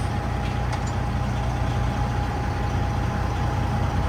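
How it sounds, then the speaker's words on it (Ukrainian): Semi truck idling and then creeping off in low gear, a steady heavy diesel rumble with a constant drone, close and even throughout, no speech over it. "Рукавиці зняв, включаю понижену і потихеньку від'їжджаю."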